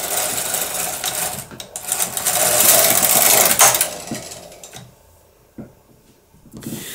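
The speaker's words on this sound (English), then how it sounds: "Hold the ravel cord and knit one row from left to right, and your carriage will end on the right." The carriage of an SK280 knitting machine slides across the needle bed to knit one row, a loud close mechanical whirring rattle that swells, then fades into a few clicks and clatters as it stops.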